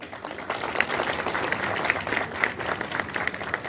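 Applause from an audience at a district meeting, a steady wash of many hands clapping at moderate volume for several seconds with no talk over it.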